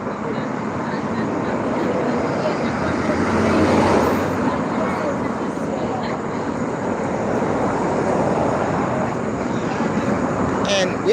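Broad, steady roar of traffic along busy Balboa Avenue in the evening, a dense wash of passing vehicles that swells slightly midway, with a person talking over it.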